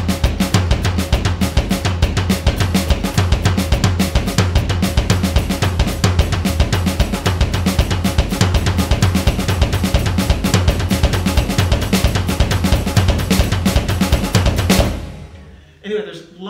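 Drum kit playing a lick with alternating right-left sticking, a dense, loud, driving pattern of rapid kick and snare hits with cymbals, running steadily before stopping abruptly near the end.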